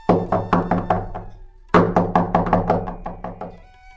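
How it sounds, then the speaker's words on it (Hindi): Knuckles rap on a house door in a cartoon story: two bursts of quick, loud, evenly spaced knocks separated by a short pause, with no talking. "किसी ने दरवाजा खटखटाया"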